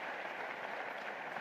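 Guests seated at tables during a breakfast business session in Lagos clap together, making a dense, even patter of many hands that holds steady without pauses or voices.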